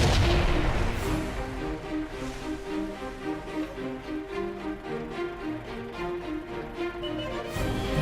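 WZ-131 light tank in World of Tanks firing a premium cannon round: one sharp, heavy boom opens the clip and decays into a rumbling tail, followed by a steady droning engine hum.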